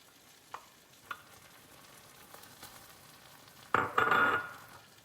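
Red peppers going into curry paste for Panang chicken curry, a soft background sizzle with a few light clinks, then a loud burst of frying and stirring near the end.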